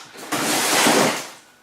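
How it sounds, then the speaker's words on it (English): Rustling, shuffling noise as a freezer is opened and food items are put back inside in a home kitchen, a sustained broadband rummage that swells and fades over under two seconds with no speech. "sorry about the noise folks, just putting them back in the freezer."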